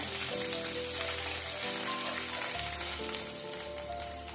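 Chopped ginger frying in hot oil over a low flame for sweet lemon pickle, a close, steady crackling sizzle like light rain on a surface, with fine popping running the whole time.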